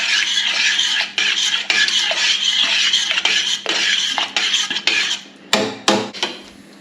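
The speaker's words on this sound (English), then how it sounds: "Stir that in." Sauce with a pinch of salt being stirred in a pan for spaghetti bolognese: a steady scraping, rasping stir with the spoon rubbing against the pan, close and continuous, breaking into a few separate knocks and scrapes near the end.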